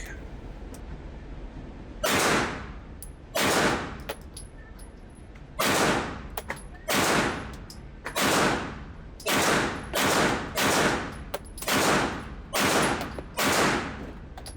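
Gunshots from a Glock 19 pistol fired at targets 7 yards away: eleven sharp, loud, close cracks spaced roughly a second apart, with a quicker pair and a cluster near the end, each ringing briefly before the next.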